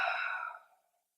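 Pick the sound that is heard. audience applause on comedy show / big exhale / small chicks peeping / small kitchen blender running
big exhale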